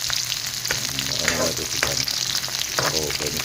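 Mung beans with shrimp and fish sauté in a hot pan, producing a constant close sizzle and frying crackle with intermittent scraping stirs.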